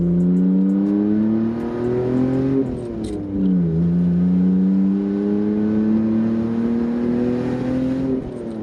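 A BMW E46 engine pulls hard through the gears, its steady droning note climbing, dipping at a shift around the middle, then rising again, loud and continuous from inside the car.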